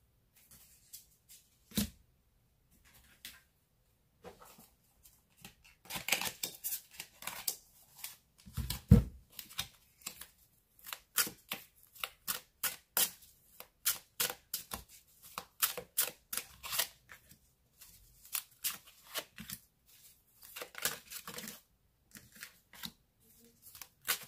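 Oracle cards are shuffled for a cross-shaped reading, giving a run of crisp, irregular riffling and flicking bursts that build into dense clusters in the middle, close and fairly quiet with no talking.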